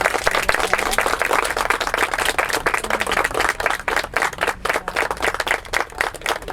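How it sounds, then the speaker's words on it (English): A crowd applauds for Irene at an outdoor World War Two remembrance event, loud dense clapping from many hands continuing without pause, close and energetic. "Round of applause for Irene."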